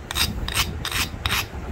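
A flint preform edge is ground with four short, evenly spaced rasping strokes, close and fairly loud, with no talking.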